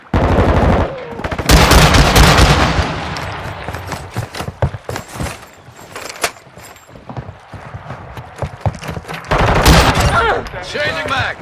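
Heavy automatic gunfire in Call of Duty: Modern Warfare II, loud sustained bursts and rapid shots in a dense firefight, with clusters of individual cracks and battle noise throughout.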